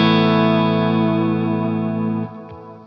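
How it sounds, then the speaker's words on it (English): A single sustained electric guitar chord, played through a Fractal FX8 with its panner effect off, rings out steadily and slowly decays, followed by a couple of faint string noises at the end. "So the guitar sound without the panner sounds like this."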